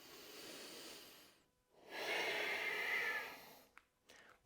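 Long, steady breaths, nearby and soft, during a vinyasa yoga session. One slow, airy exhale fades into silence, a second fuller breath follows, and then come a few short sniffs.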